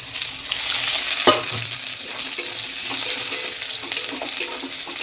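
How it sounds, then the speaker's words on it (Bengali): Onion and capsicum frying in hot oil in a pan for chicken chowmein, a loud, steady sizzle throughout with one clear clank of a spatula early on and soft stirring strokes. "অল্প করে একটু ভেজে নিই। এবার ক্যাপসিকামটাও দিয়ে দিই।"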